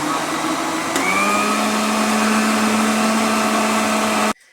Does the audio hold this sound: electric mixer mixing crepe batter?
yes